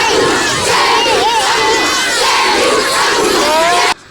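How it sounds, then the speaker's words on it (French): A large crowd of schoolchildren cheers and shouts jubilantly at a visiting official's arrival at a school under rehabilitation, a loud, dense, continuous roar of young voices with rising whoops, cutting off abruptly at the end. "À son arrivée, l'homme des terrains a été accueilli par une foule des élèves en liesse"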